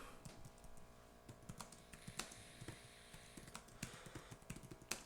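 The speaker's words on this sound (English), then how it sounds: "I'm typing right now." Typing on a computer keyboard: quick, irregular clusters of light keystrokes, close and quiet, with no talking.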